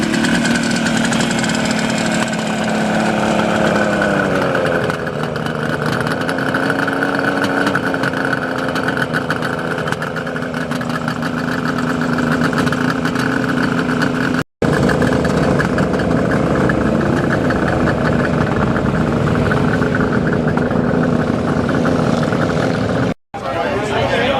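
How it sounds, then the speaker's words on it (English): A Honda motorcycle engine runs steadily at a Bogota two-stroke meetup, a continuous droning note shifting pitch slightly around five seconds, with crowd chatter mixed in throughout. "This is Dale's Honda"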